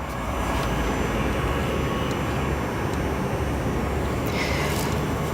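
Aircraft engine roar at O'Hare International Airport: a steady, loud broadband rumble holds throughout, with faint higher whine on top and no talking.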